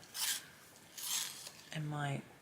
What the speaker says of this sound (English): I'm going to just try sharpening it in my